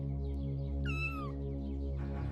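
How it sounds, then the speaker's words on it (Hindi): A domestic cat gives a single clear meow over a constant low humming background, with a soft rustle following it. "अभी ये बिल्ली यहाँ पे भी आ गई है।"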